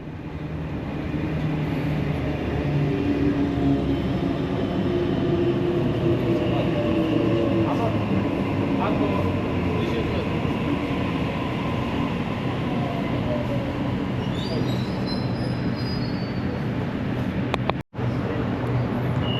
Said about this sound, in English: So now A1 is departing platform 2 at Olympic Park for sprint service back to Lidcombe